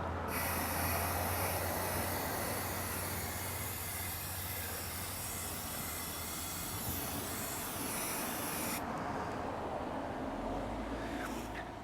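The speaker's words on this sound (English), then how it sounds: "We're going to go ahead and spray the other sides of the tray and then move on to the other parts of the planter." Spray paint hissing steadily from an aerosol can onto a wooden planter tray, a continuous broadband spray running for most of the stretch before cutting off near the end, close and fairly loud.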